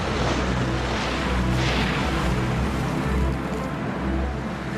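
Roaring wind and crashing waves fill a Mediterranean gale at sea, a dense, loud, continuous rush of surf and spray with no voices.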